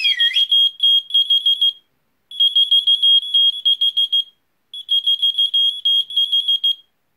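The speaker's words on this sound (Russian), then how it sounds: "Откликаются они на обычный свист человека. Выражается это громким пищанием и моргающей подсветкой." A plastic whistle-activated key finder keychain beeps loudly in three bursts of rapid, high-pitched electronic chirps separated by short pauses, close and clear with no talking.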